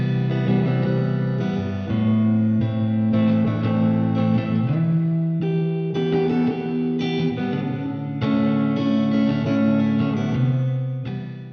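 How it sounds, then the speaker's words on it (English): An electric guitar plays sustained, droning chords drenched in reverb, sounding washed out and distant, with notes blurring into one another. "reverb creates distance, as if the guitar is being played in a neighboring universe."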